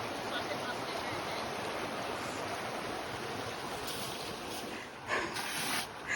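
Crossing River on the Port Davey Track in southwest Tasmania rushes steadily nearby, a broad, continuous noisy flow with a few louder surges toward the end.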